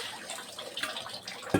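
Water from a natural spring flows out at a stone stepwell (bawdi) in a hill village in the Shimla district, a steady soft trickle and splash heard up close with no talking.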